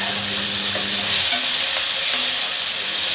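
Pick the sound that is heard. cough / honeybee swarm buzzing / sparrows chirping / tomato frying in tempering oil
tomato frying in tempering oil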